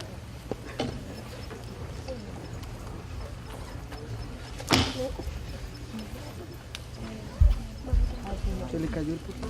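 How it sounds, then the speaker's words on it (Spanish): A dropped laptop hits the floor at a conference hall, giving a sharp crack partway through and a couple of low thuds later, amid quiet room noise and background voices. "Se le cayó el portátil."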